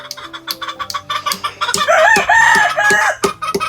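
A Texas gamefowl rooster crows once loudly and close, preceded and followed by sharp clucks and clicks from nearby birds.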